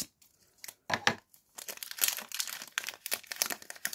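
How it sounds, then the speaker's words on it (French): Plastic wrapper of a Pokémon booster pack being snipped and torn open with scissors, a run of crisp crinkling and tearing bursts in short irregular clusters, close and fairly loud with brief pauses between. "Je vais remettre un coup de ciseau."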